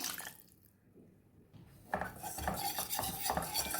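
A spoon stirs milk into a pan of white sauce, a quiet lull giving way to continuous scraping and sloshing, close and fairly loud, with no voices.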